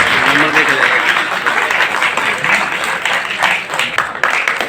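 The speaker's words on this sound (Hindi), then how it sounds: "तालियां" Applause from an audience at a teacher felicitation ceremony, dense clapping heard throughout under a loud voice speaking over it.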